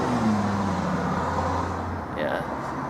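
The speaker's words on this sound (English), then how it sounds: "my street here has a lot of traffic that's coming by" Road traffic passes along a busy city street, a steady broadband wash of car and engine noise with a low motor drone fading near the end, heard close outdoors.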